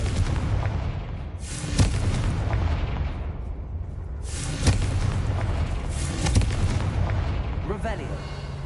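Confringo fire spell blasts in Hogwarts Legacy, booming explosions landing at about 1.8, 4.7 and 6.4 seconds over a constant loud rumbling battle din.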